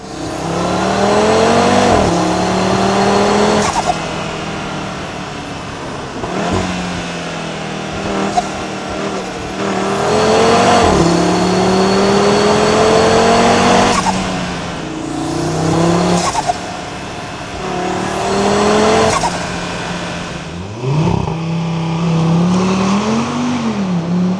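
A 2026 Audi RS3 Competition five-cylinder engine revs up and down repeatedly, recorded in the engine bay and above the exhaust, close and loud, with a throaty exhaust note rising in pitch then dropping off between pulls.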